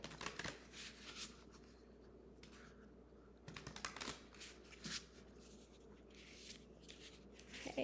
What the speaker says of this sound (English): let's do a ruffle shuffle and see what we get